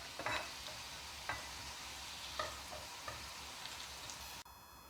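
Bitter gourd fries in oil with a faint, even sizzle, while a utensil scrapes and stirs it in distinct strokes about once a second, close but quiet and without voices.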